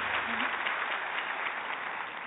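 A television studio audience on The Susos Show applauds a guest with steady, dense clapping that holds at an even level throughout, with no break.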